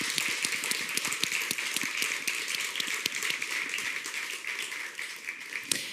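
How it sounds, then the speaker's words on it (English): Conference audience applauding panelists at the end of a session, a moderate crowd of distinct hand claps forming a steady, slightly uneven patter that continues for six seconds with a few sharper claps standing out. "please join me in applause for our panelists"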